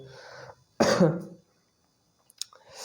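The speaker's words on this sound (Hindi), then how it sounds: "थोड़ा सा खांसी आ रहा है" A single sharp cough bursts out close to the mic, followed by silence and a faint throat noise; a voice is briefly heard at the start.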